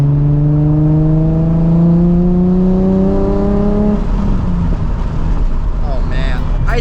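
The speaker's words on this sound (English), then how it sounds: "there's like a ringing sound when you rev the car over a certain RPM, ringing like a pinging exhaust note" A 2007 Nissan 350z HR engine revs up, its exhaust note climbing steadily in pitch with a strong, close drone before settling back toward idle.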